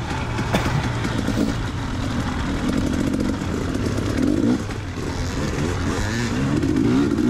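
A dirt bike engine revs hard and continuously through a motocross grand prix lap, the throttle rising and falling in a loud, close, steady roar with no voices over it.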